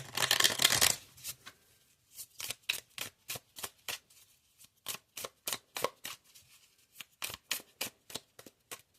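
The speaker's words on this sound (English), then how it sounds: "I'm going to shuffle one time." A deck of tarot cards riffled briefly, then a long run of crisp, evenly spaced card slaps and flicks, close by and quiet.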